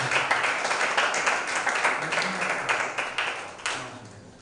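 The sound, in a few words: audience applause for Mr. Paul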